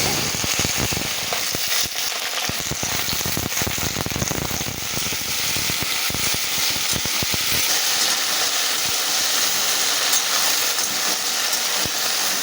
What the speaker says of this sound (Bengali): ভেন্ডি আর আলুটা আমি ভাজা বসিয়ে দিয়েছি